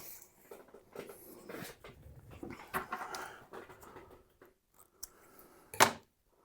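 Cord is cut in half in a workshop, with a soft rustle of handling and a few quiet snips that end in one sharp, louder cut near the end.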